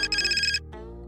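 A phone ringtone trills in a fast warbling burst, pauses briefly, then a softer tone sounds, close and clear.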